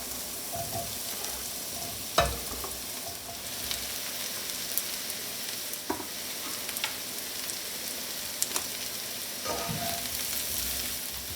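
Sliced mushrooms sizzle steadily in a hot buttered pan for chicken marsala, with a continuous close frying hiss and occasional scraping and stirring clacks of a utensil against the pan.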